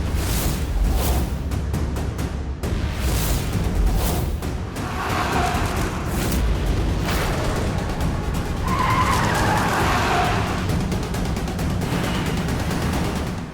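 A car chases close behind another, engines roaring with screeching tyre skids and sharp bursts of noise throughout, loud and steady with no talk.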